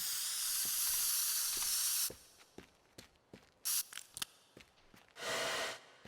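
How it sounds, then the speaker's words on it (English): Spray can hissing in the game Teardown: a steady broadband spray for about two seconds, then short scattered bursts and a final longer blast of spray, loud and close with no talking. "I got a spray can."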